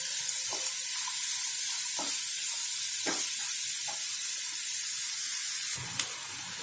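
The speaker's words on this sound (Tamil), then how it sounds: "கட் பண்ணி வச்சிருக்கிற வெங்காயத்தை வதக்க போறேன்" Chopped onions sautéing in melted butter in a pan for butter chicken, a steady close sizzle throughout with a few sharp scraping stirs of a utensil against the pan.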